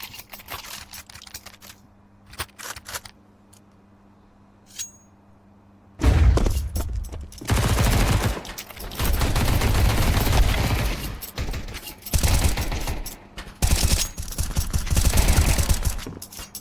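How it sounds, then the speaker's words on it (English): Tec-9 and pistol gunfire in a competitive video game match, starting with a few scattered shots over quiet, then dense rapid bursts of overlapping fire for the last ten seconds, loud and close. "Tech 9s and pistols flying."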